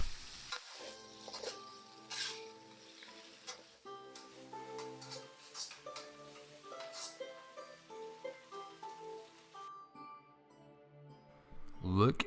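Pad see ew noodles with greens stir-frying in a hot wok, a steady sizzle with scraping and clanking of the spatula running throughout, fairly close, with a voice talking over parts of it and the noise cutting off briefly near the end.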